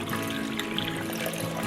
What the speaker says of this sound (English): on top of that, we're going to add some water